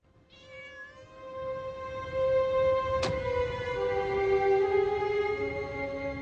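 A cat meows in one long, drawn-out, clear call close by, with a faint background hum.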